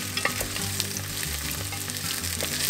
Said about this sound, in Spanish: agregamos los camarones secos y los vamos a freír también